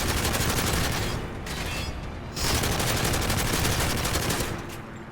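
Dense, continuous automatic gunfire from a Modern Warfare 3 Survival match, loud and sustained with a brief dip before the shooting surges again, no talking.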